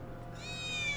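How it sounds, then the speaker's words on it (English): A cat in Final Fantasy VII Remake meows in a drawn-out, rising call over steady low background hum, growing slightly louder toward the end. "Oh, there's a cat."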